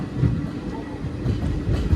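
A train rolls along at normal speed on the Junagadh–Kukavav line, heard from inside a crowded general coach: a steady, loud low rumble with a faint clickety-clack of wheels running throughout.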